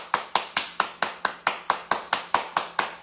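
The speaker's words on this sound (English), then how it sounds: "Everybody clap your hands." A group claps in unison during a live song performance, about thirteen sharp, evenly spaced claps in quick steady rhythm, close and clear with no talking.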